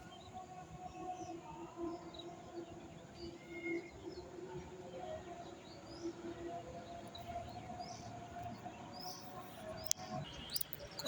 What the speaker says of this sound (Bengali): এই যে দেখুন, শালিক পাখিগুলো আস্তে আস্তে আসা শুরু করছে।